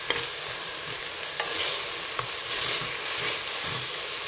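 Steady sizzling and hissing from a hot pan over medium heat, with soft scraping strokes as spices including cinnamon are stirred, continuous and close.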